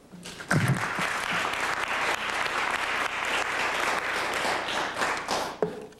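An audience applauds to welcome speaker Richard Vigilante at a book event: dense, steady clapping from a room full of people that holds for several seconds, with a few sharper claps near the start and end.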